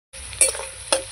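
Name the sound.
frying potatoes and onions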